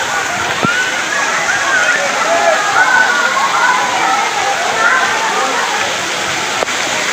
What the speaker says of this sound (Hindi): यहाँ से पानी टपक रहा पूरा